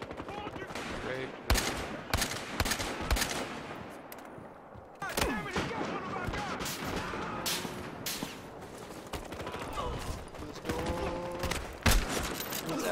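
Battlefield Hardline sniper rifle gunfire in a Conquest match, scattered sharp shots amid a busy battle with other gunfire around, loud and continuous with brief lulls.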